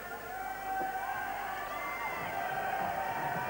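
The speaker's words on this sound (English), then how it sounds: "A little applause." A crowd at an outdoor 1982 Jeux Sans Frontières heat in Sherborne, Dorset, keeps up a steady roar of cheering and shouting, with mixed voices and applause blended into the noise.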